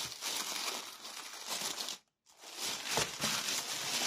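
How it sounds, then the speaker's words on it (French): Paper wrapping being carefully opened, close and quiet crinkling and rustling that stops briefly midway and then resumes. "Je vais essayer d'ouvrir le papier. Ouais, pas facile, sans trop déchirer."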